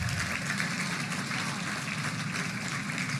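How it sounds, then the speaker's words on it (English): Dense, steady applause from a large audience at a Little Rock Touchdown Club event honoring a 1964 National Championship football team, continuous broadband clapping throughout with no pauses. "Worth a round of applause."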